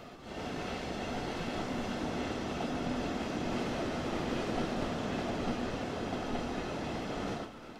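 A train rolling into a station platform in Train Sim World 3: a steady, loud rumble and hum from the carriage runs continuously, then fades at the end.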